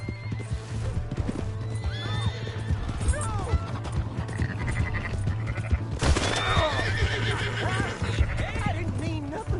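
A horse in Red Dead Redemption 2 neighs loudly and repeatedly. Hooves clip-clop beneath the neighs, and people shout and talk over them.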